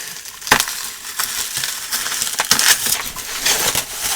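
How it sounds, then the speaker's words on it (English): Bubble wrap crinkles and crackles as a boxed 1989 Philips VR6680 VHS recorder with built-in LCD screen is unpacked, with a few sharper pops and rustles scattered through a steady handling noise, close up and without talk. "I hate the sound of bubble wrap."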